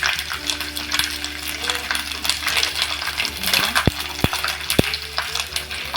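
Sago pearls crackle and sizzle steadily as they are stir-fried in a pan for nylon sabudana chivda, with a few sharp clicks of a spoon against the pan.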